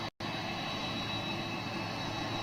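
A large airliner powered by CF6 jet engines roars in a steady, broad rush after a brief dropout at the start, heard from a distance with no voices.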